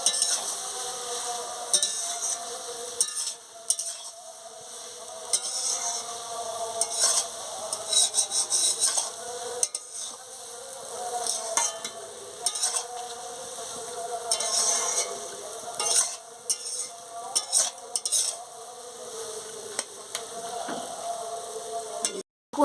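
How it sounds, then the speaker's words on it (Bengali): Fish heads fry in oil with a steady crackling sizzle while a utensil stirs and scrapes the pan in irregular close strokes, running continuously and ending abruptly, with no talking. "দেখুন ভালো করে ভেজে নিয়েছি"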